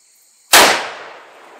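A single 7mm-08 rifle shot rings out during sighting in: a sharp, loud crack after brief quiet, followed by a decaying echo tail lasting about a second.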